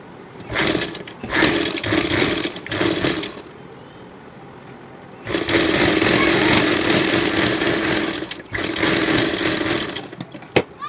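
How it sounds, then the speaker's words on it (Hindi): A sewing machine stitches umbrella fabric along both sides, running in several loud bursts of steady whirring separated by short pauses. "अब इसको सिल देंगे दोनों तरफ से"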